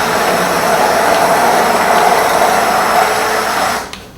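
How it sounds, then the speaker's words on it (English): Immersion blender whirring through thick chicken tikka masala sauce, a loud, steady motor drone running close for nearly four seconds before cutting off abruptly. "We're going to stick our immersion blender in there."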